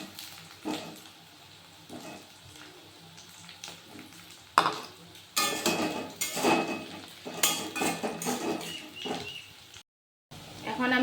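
Potatoes tossed into onions frying in a kadai with bay leaf and cardamom, giving bursts of sizzling and metal utensil scraping and clatter. Stirring noises come and go close by, then stop with a short silence near the end.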